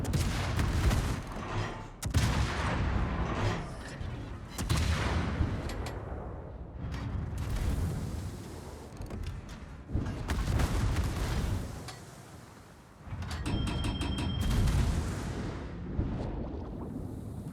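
Naval guns firing from a Surcouf, a Tier X French submarine, in World of Warships: repeated loud booming salvos in an irregular rhythm, close and dense, with a brief lull before more volleys.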